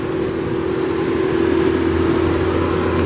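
A 2017 Audi Q7 3.0T Premium Plus Quattro engine idles in a steady, smooth drone with a low constant hum, heard close and alone.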